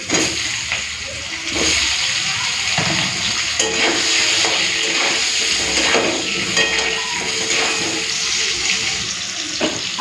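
Potatoes fry in oil with slit green chillies and black cumin seeds, giving a close, continuous sizzle with faint stirring scrapes, and water briefly runs nearby.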